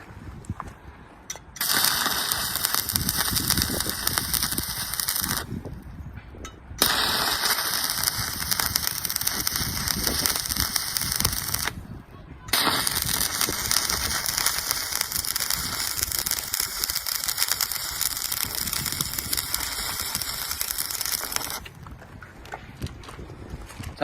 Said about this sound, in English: I'll do some starts and stops to show you the power of this little welder